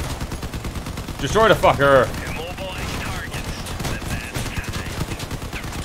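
Vehicle gunfire in the Crossout combat game, bursts of rapid shots rattling under loud excited shouting from a player, continuing steadily after the voice drops away.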